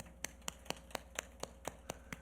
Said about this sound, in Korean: 박수를 쳐보세요